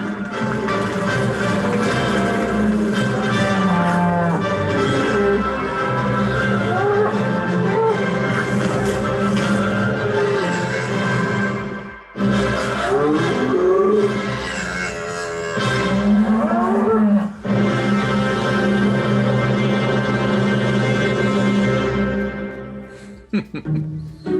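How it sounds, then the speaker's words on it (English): Several cows moo repeatedly on a farm where the herd grazes on pasture, long overlapping calls near and loud, with a few brief pauses between bouts. "to wait for the grasses to grow to let the cows back out"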